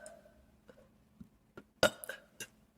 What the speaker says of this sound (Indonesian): Aku sendawa dulu bentar.